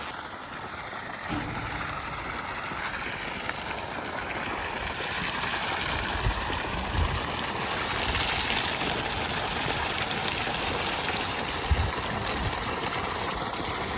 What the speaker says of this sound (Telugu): ఇప్పుడు బోర్ దగ్గరికి వచ్చి ఒకసారి ఎలా కొడుతుందో చూద్దాం దాన్ని